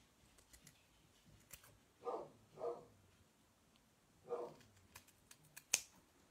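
Scissors snip excess material from a Santa bottle-top craft in a handful of short, separate cuts, close but quiet against a faint, hushed background.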